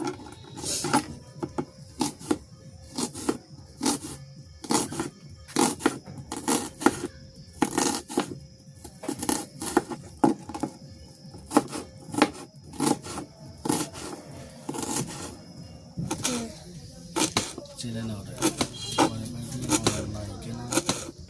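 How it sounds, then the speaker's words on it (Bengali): A knife chops onion on a board in a village kitchen, making quick, evenly spaced sharp taps that continue nearly throughout, close and crisp, with occasional talk in the background. "পেঁয়াজটা আমি ছেলে নিয়ে এখন কুচিয়ে নেব পেঁয়াজটা"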